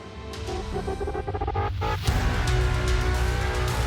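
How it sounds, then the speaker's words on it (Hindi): A car moves off with a rising engine rev and a brief tyre squeal early on, then a steady, fairly loud engine drone as it pulls away. "चुपचाप अपनी गाड़ी हटाओ यहाँ से, क्योंकि मुझे अपनी गाड़ी लगानी है।"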